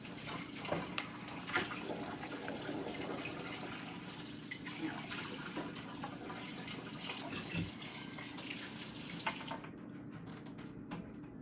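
Water pours out steadily in a continuous splashing stream, moderately close, tapering off near the end.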